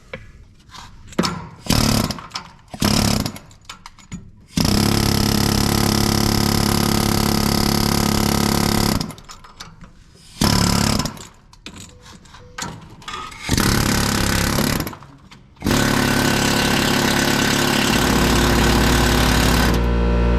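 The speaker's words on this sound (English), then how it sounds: "we're gonna start by hitting it with the air hammer and seeing what comes off" A pneumatic air hammer knocks rust off a Ford 5.4 exhaust manifold, blasting loudly up close, first in short choppy bursts, then long sustained rattling runs with brief pauses between.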